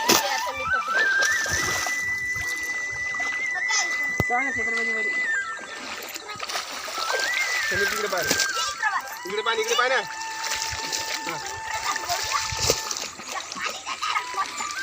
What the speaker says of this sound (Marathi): समीर दा केवढ्या पाण्यात पवा लागला बघा